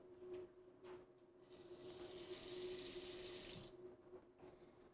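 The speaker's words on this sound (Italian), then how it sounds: "Mettiamo un po' di acqua nella padella." Water runs steadily for a couple of seconds as it is added to a frying pan in a kitchen, with a few faint knocks before and after.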